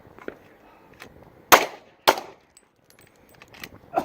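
Two sharp pistol shots ring out at a shooting range about half a second apart, loud and close, with faint clinks and small handling sounds around them.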